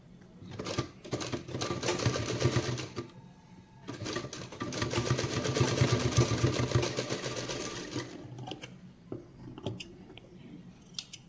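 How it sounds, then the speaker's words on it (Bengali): A sewing machine stitches fabric while a latkan tassel is sewn on along a corner, running in two bursts of rapid mechanical chatter, each several seconds long, with quieter pauses and small handling clicks between them. "সেলাই করার সময় কোণ বরাবর যে আমি লটকানের জন্য আগেই বানিয়ে রেখেছিলাম, সেটা কোণ বরাবর বসিয়ে একেবারে সেলাই করে নিচ্ছি।"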